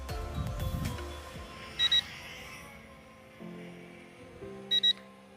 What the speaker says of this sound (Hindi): इसकी बैटरी से ब्लिंक की आवाज़ मतलब बीप की आवाज़ आ रही है